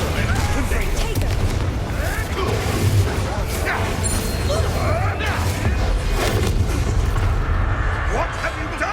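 A Confringo blasting spell explodes during Hogwarts Legacy combat, with booms and crashes layered into dense, continuous battle noise under spoken spell incantations.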